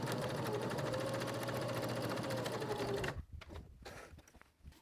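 An electric sewing machine back stitches across a seam on a fabric journal cover, a fast, steady, close whirring stitch that runs for about three seconds and then stops abruptly, leaving quiet handling noises.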